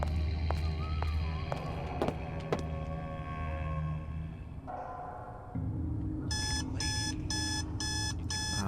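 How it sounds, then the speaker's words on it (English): Phone alarm ringing in the video game Bioshock Infinite: Burial at Sea, a loud repeating electronic beep pattern in evenly spaced bursts, following clanks and ambient game noise. "There goes my phone. One of these days, I'm gonna turn off that alarm."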